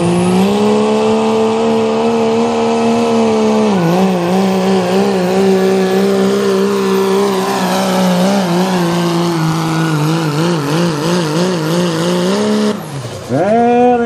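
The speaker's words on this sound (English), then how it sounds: "Diesel pickup pulling is one stout class nationwide." A diesel pickup truck pulls at a truck pulling event, its engine screaming in a sustained high rev that wavers and dips in pitch, loud and continuous, then briefly cuts out near the end.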